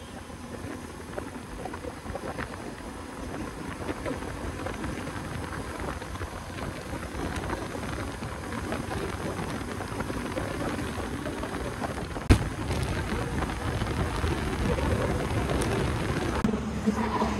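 Motorbike cruising on the Kalyani highway in the morning, steady broadband engine and road roar mixed with buffeting wind noise on the microphone, continuous and fairly loud throughout with one brief thump near the end.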